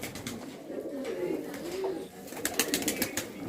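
Soft cooing of Tonk Ude pigeons, a few low throaty calls close by, with faint background noise and scattered higher chirps toward the end.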